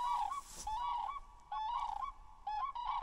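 A turkey calls outdoors in three short bursts of honking, gobbling notes separated by brief pauses, clear and fairly close against quiet surroundings.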